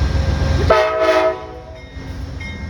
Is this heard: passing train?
yes